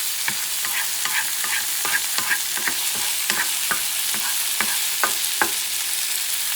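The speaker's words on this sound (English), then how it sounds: "And you move it for a couple minutes. Creating a saute." Shrimp and pork sauteing in a pan above medium heat, a continuous close sizzle broken by repeated sharp scraping and stirring strokes in an irregular rhythm, with no talking.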